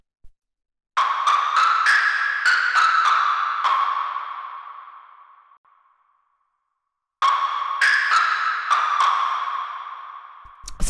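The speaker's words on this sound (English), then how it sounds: "this is just this pretty simple sort of lead line" Simple lead line from a textured lo-fi track, a run of bright bell-like plucked notes with a long fading tail, then silence, then a second similar phrase cut short.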